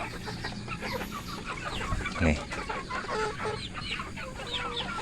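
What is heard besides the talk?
chickens clucking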